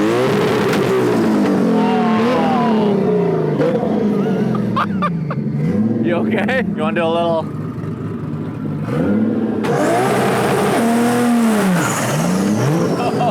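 A 1.5JZ-powered Toyota Corolla drag car revs loudly and close, its engine climbing and falling in repeated sharp bursts on a drag strip with a burnout box, while people speak briefly over it.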